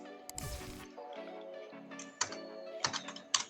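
Quick, quiet keystrokes on a computer keyboard, an irregular burst of clicks as a short name is typed, with a few sharper taps near the end.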